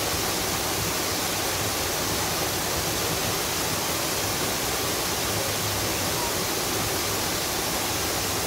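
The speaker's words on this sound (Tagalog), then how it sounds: "Ayan oh, yung falls na isa." A waterfall pours in a dense, constant roar that stays loud and even throughout, with no voices.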